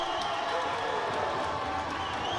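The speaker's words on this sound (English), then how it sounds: "Oh, wow, that fires up the crowd." Spectators at a college volleyball match between the Iowa Central Tritons and Ellsworth Panthers roar after a point, a steady, loud wash of crowd noise filling the gym for a couple of seconds.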